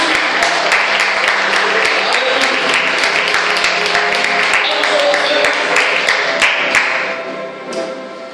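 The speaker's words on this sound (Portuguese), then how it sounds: "vou pedir para você dar mais uma salva de palmas para Jesus" Strong applause from a church congregation clapping for Jesus, with crisp individual claps over a musical tone, then fading out toward the end.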